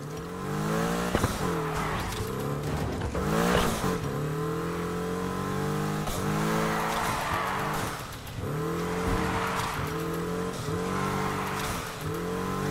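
A drifting car in Need for Speed Heat, engine revving hard with shifting pitch while tires squeal and skid through long sliding passes, loud and continuous with brief drops between bursts.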